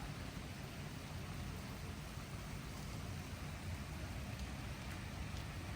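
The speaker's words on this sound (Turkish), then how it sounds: "Çok hafif yağıyor." Steady light rain falls as a soft, even hiss with no pauses, fairly quiet and constant throughout.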